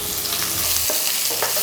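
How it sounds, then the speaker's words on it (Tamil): Chopped onion hits hot oil for a South Indian vegetarian dish, giving a loud, close sizzle with scraping stir strokes crackling through it. "ஒரு வெங்காயம் வெட்டி வச்சுருக்கேன், அதை இதில் சேர்த்துருவோம்"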